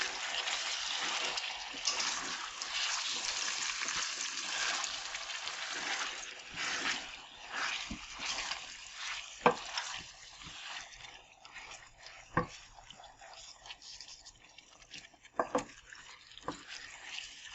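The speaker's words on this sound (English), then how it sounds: "we're gonna stir everything together" Chopped tomatoes are stirred into a corned beef and cabbage stew: wet, sloshing scrapes of a spoon through the pot, busy and fairly close at first, then thinning out into a few sharp clicks against the pan.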